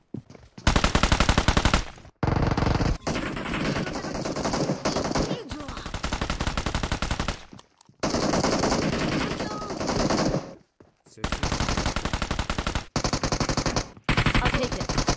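Loud, sustained automatic gunfire from PUBG Mobile on the Erangel map comes in long rapid bursts separated by brief silent gaps, fired close and dense, with faint voices occasionally underneath.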